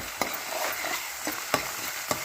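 Green chilies, corn and peas frying in a hot tempering for vegetable upma, a steady close sizzle with a few sharp stirring clicks and taps from a spoon against the pan.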